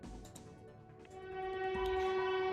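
A train horn sounds in a video game, a sustained tonal blare that swells and holds steady over rumbling, close and fairly loud.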